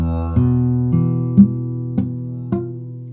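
A guitar strum repeats about six times in a steady rhythm, each one dull and buzzing rather than ringing cleanly.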